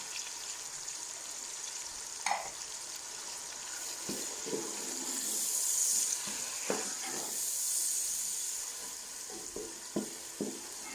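Masala spices fry in oil with a soft, steady sizzle that swells and fades, broken by a few scraping stir strokes and light clinks; quiet and close, with no talking.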